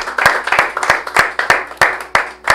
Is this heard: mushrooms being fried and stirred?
no